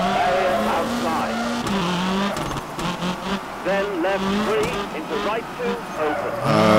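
A rally car in the WRC3 racing game spins and skids, its engine drone and tire scrubbing running steadily beneath continuous close-up talk.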